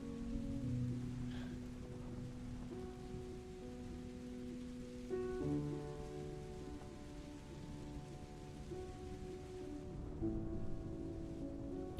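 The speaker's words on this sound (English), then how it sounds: "the rain beats down onto your head, soaking your cloak and clothing and hair" Rain beats down in a steady, soft hiss of drops, continuous and fairly faint, with a quiet background tone underneath.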